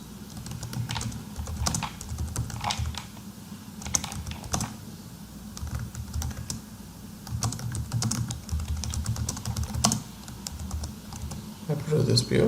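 Typing on a computer keyboard to enter comments in business software, a steady run of soft key clicks close by, with quiet background and no speech.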